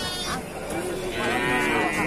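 Javanese cattle moo in a low, drawn-out call, with a second bovine voice overlapping amid busy farmyard background noise.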